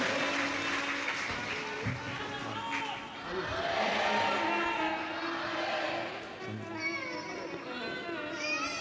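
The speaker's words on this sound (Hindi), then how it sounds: "एक बार जोरदार ताली बजाकर स्वागत करिए" A crowd applauds at a Shiv Mahapuran katha, a Hindu religious gathering in Kawardha, Chhattisgarh; sustained, fairly loud clapping from many hands, with children's voices and chatter mixed in.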